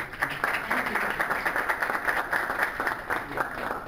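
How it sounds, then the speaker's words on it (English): Steady, fairly loud applause from a gala awards audience, many hands clapping in a continuous wash with a few sharper individual claps standing out. "Round of applause for yourself"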